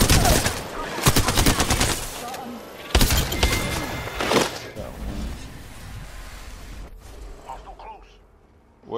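Rapid gunfire bursts in the online shooter Apex Legends, loud and close with sharp clustered shots early on, then thinning into scattered impacts and game effects before a near-silent stretch at the end.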